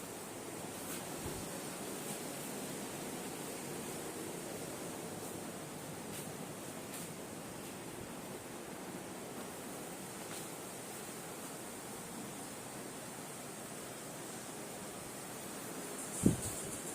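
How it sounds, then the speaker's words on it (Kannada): Steady, continuous rain at a Club Mahindra resort in Virajpet, a constant even hiss that holds level throughout, with one brief knock near the end. "ನೋಡಿ ಮಳೆ ಮಾತ್ರ ಬರ್ತಾನೇ ಇದೆ ಕಂಟಿನ್ಯೂಸ್"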